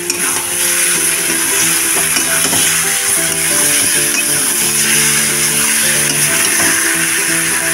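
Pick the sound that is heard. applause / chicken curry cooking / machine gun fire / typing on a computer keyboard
chicken curry cooking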